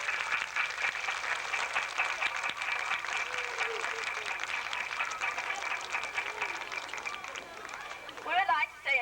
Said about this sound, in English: Let's give a round of applause to our 1986 homecoming queen